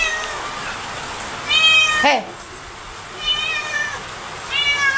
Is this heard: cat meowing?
yes